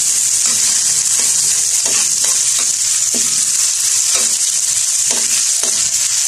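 Rice with upo squash fries in a hot pan, a loud continuous sizzle broken by regular scraping stirs of a utensil, close and without talk.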